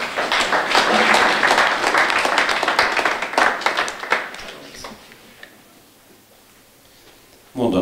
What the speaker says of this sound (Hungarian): és nagy tapsot kérnék meg.